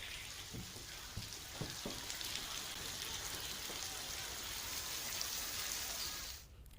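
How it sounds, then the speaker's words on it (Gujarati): Heavy rain falling at Shamlaji in Aravalli, a soft, even hiss with scattered drop ticks early on, fairly faint and distant, fading abruptly at the end. "ત્યાં વરસાદ વરસી રહ્યો છે"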